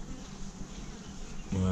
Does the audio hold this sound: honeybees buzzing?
yes